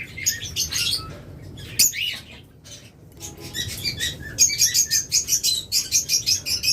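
Lovebirds chirping busily in a flock, rapid high tweets overlapping, with a quick run of repeated chirps toward the end; no talking.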